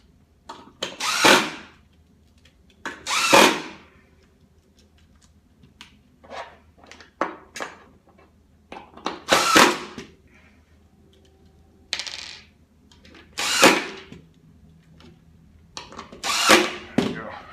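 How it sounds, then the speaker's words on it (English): A power drill driving screws into an IKEA Sektion wall cabinet whirs in short bursts, about six separate runs spaced a second or two apart, with quiet clicks and handling noises between. "Use my drill to screw those guys in there."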